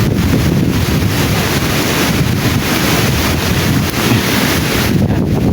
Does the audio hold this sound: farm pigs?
no